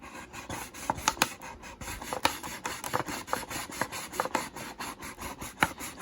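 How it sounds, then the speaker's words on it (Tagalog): A knife saws through a plastic bottle in quick repeated rasping strokes, close and crisp, with an irregular scraping rhythm and no speech. "Gamit ang kutsilyo, puputulin natin siya."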